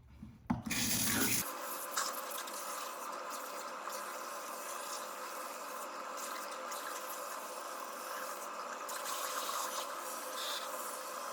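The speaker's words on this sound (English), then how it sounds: "So at this point, I'm gonna rinse Cole. I'm gonna rinse him really, really well" Steady running water from a sink tap rinses hair and scalp: a broad, continuous close hiss and splash that starts after a brief clatter and holds for about ten seconds, with no voices.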